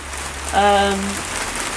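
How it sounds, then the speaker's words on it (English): Heavy rain pours in a steady, loud wash during a Yamaha chopper build, and a brief tonal hum rises over the downpour partway through. "Damn, that rain is really loud."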